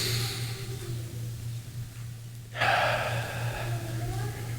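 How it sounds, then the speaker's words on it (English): A deep breath in during a guided breathing exercise, a soft airy inhale that swells suddenly partway through over a steady low hum, fairly close and alone without talk. "One more breath in."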